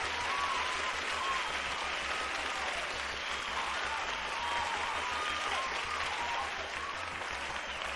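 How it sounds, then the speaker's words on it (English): Sustained applause from a crowd, steady clapping throughout with a few faint voices mixed in. "Thank you for the applause."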